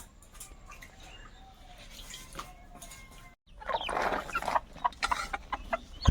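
Chickens in a Sundarbans village cluck close by, first quietly and then in a louder, busier burst of overlapping calls during the second half.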